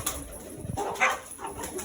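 Brief flurries of wing flapping inside an enclosure, with soft pigeon coos and light rustling close by.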